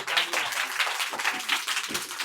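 Dense clapping from a group of children at a Christmas celebration in Lahore, applauding Santa in a steady burst of many hands at close range.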